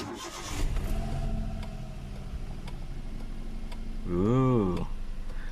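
Hyundai Eon car fitted with NGK laser iridium spark plugs starting up. A brief crank and catch is followed by a low, steady idle, with a short rising rev near the end.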